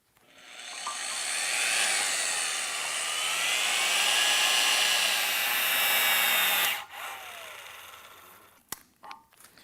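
A pneumatic torque gun set to 450 foot-pounds runs the nut down on a bolt with a steady, high whining whir for several seconds, then cuts off, followed by a few faint clicks and knocks up close.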